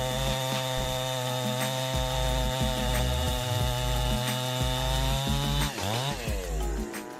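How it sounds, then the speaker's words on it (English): A Stiefel 400s chainsaw cuts through wooden logs, its engine holding a loud, steady buzzing whine close by, then dropping in pitch near the end before easing off. No voices. "Discover the Stiefel 400s, a formidable chainsaw powered by advanced technology."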